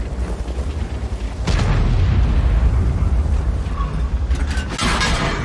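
Tank gun rounds strike an IS-7 heavy tank in the World of Tanks video game, with heavy booming impacts and a sharp crack partway through, followed by rumbling engine and battle noise.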